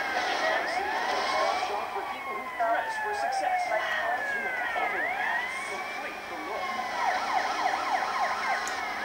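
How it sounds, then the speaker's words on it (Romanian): Police sirens wail in GTA Vice City, several overlapping rising and falling tones sweeping continuously at moderate loudness during a chase. "Și iată că a apărut și poliția."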